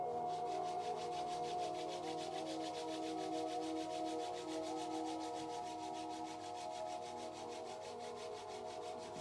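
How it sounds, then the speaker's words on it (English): Palms rub together to make heat in a quiet yoga session, a soft, rhythmic swishing friction that continues evenly over a faint tonal background. "Now both palm together. Rub your palm, make a heat."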